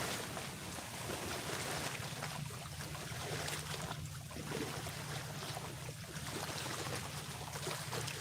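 Water churns and sloshes as a boat passes with a barge following behind, a steady wash of wake noise with a low engine hum underneath, moderately distant and without talk.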